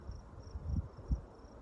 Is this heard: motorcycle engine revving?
no